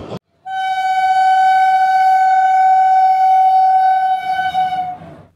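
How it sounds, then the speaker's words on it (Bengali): A train horn on the Amrit Bharat Express sounds one long, loud, steady blast close by. It holds for about four seconds, then cuts off amid faint rail noise. "রেলগাড়ির হর্ন শুনে"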